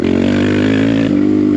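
A BBR KLX170RF dirt bike engine revs loud and close, a steady throaty drone that shifts pitch briefly partway through, with no voices over it.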